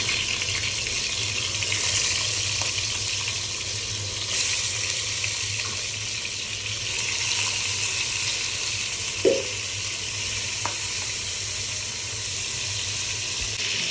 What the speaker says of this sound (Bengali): মাছটাকে ভেজে নিচ্ছি